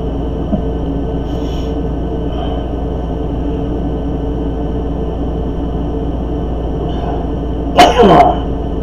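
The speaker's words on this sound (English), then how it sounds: "I got a sneeze coming on" A single sharp sneeze bursts out near the end, loud and close against a steady background hum.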